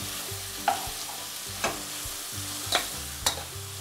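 Spices sauté in a pan for prawn pulao, a soft steady sizzle broken by four sharp scrapes of a spoon stirring at a slow, even pace, close up and without any talking.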